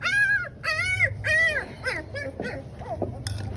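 A young puppy gives a series of high, drawn-out whimpering whines, several rising and falling cries close by, with faint voices in the background.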